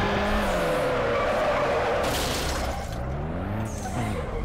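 Tires skid and squeal continuously as a car drifts in Need for Speed Underground, loud and close, with engine whine rising and falling under the screech throughout.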